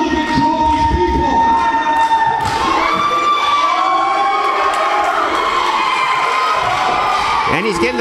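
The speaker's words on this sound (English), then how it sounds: "And he's getting the crowd support." A crowd cheering and shouting in support of a wrestler at a UWC wrestling show, loud and continuous, with whoops and thuds mixed into the steady roar and a voice faintly underneath.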